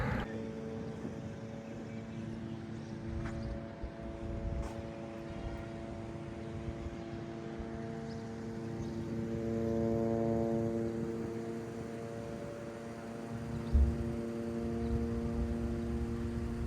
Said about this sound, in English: the first thing I noticed was the sound of an Israeli drone overhead